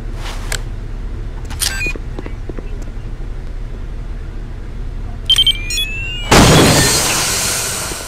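A radio bomb in Counter-Strike: Condition Zero beeps a few times, then detonates in a sudden loud blast whose broad roar slowly fades out, after a stretch of quieter game ambience and clicks.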